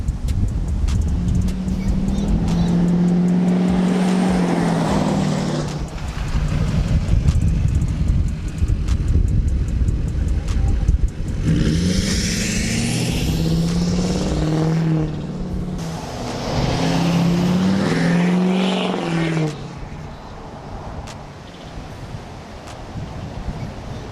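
A pickup truck passes close by outdoors, its engine rising and fading in several loud swells over steady wind noise, with no talk.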